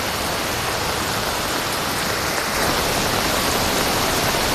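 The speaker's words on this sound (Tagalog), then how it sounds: "Grabe lakas ng ulan" Heavy rain pours steadily during a typhoon at an outdoor welding job, a dense, continuous hiss that stays loud and unchanging throughout with no voices.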